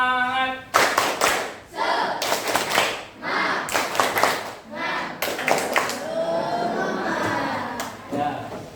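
Schoolchildren in a primary-school classroom clap the 'tepuk semangat' rhythm together, sharp bursts of unison claps in a patterned beat with shouted chanting between the groups, fairly loud and close.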